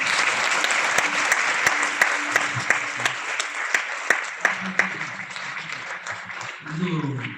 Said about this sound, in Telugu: చప్పట్లు పడవచ్చు